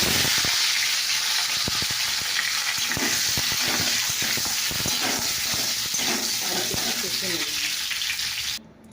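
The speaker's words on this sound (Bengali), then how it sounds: "এবার আলুটা আমি কষে নেব।" Potatoes fry steadily in a pan with a dense sizzle and repeated scraping stirs, continuous throughout before cutting off at the end.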